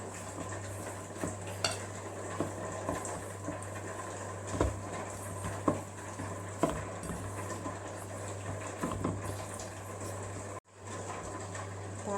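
Sabudana thalipeeth mixture is stirred together in a bowl, giving a steady, continuous run of scraping and stirring with small clinks, alongside a constant low hum and no talking.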